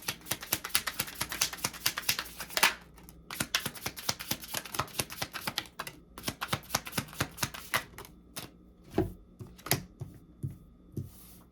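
Tarot cards being drawn out and shuffled, a rapid papery riffling patter that runs throughout, with scattered louder flicks and taps toward the end.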